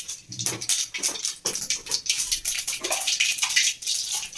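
Hot water pours and splashes into a vessel in a home kitchen during fish curry preparation, a continuous gushing stream with uneven surges, fairly quiet, no talking.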